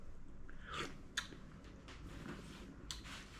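Someone tastes and chews green banana soup, with faint soft bites and squishy chewing sounds close to the mic against a low background hum.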